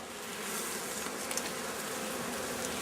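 Honeybees buzz steadily at an opened backyard hive during an early-spring inspection amid a strong nectar flow, a close, continuous hum with a few brief louder passes of individual bees near the microphone.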